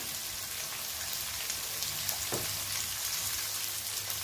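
Onions frying in a pan for a Tamil sardine curry, giving a steady, even sizzle like light rain throughout, with one brief stir or clink near the middle and no talking.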